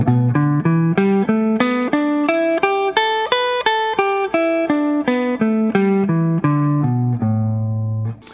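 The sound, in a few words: electric guitar playing pentatonic scale with major second instead of minor third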